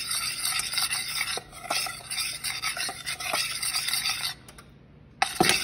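Cocoa mixture for chocolate gravy being stirred in a pot, a steady scraping and rubbing close by with repeated strokes, a short pause near the end before stirring resumes.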